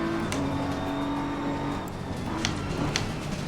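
BMW M4 GT3 race car engine in the racing game Assetto Corsa Competizione, a steady drone with a sustained tone held at an even level across the whole stretch, no talking over it.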